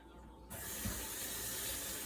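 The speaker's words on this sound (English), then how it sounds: "I shouldn't run water like this." A kitchen sink tap is turned on partway through and runs in a steady hiss of splashing water. The water is fairly quiet and continues evenly to the end, with no talking heard.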